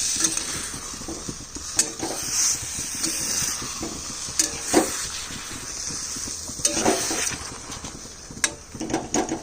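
Food frying in an iron wok, a steady sizzle broken by scraping and clinking as the pieces are turned with a spatula, close and without speech.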